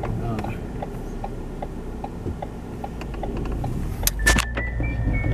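Car on the road heard from inside: a steady engine and road rumble with a light rhythmic jingle of keys, and a few sharp clicks and rattles near the end.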